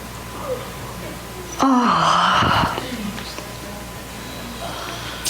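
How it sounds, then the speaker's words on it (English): A single long, drawn-out yawn rises and falls for about a second and trails into a breathy exhale. It sounds close against quiet room tone. "Let's stretch and yawn."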